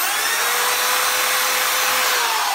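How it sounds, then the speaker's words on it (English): A power drill bores a hole through a punctured tyre to take a mushroom patch, giving a steady, loud, high-pitched grinding whine that runs unbroken from start to finish with no voices. "we're going to drill a hole ready to take the mushroom"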